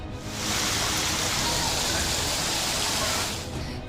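Heavy downpour during monsoon rain in Gujarat, a dense, steady broadband hiss of rain that swells up after the first half second and holds loud and unbroken before easing slightly at the end.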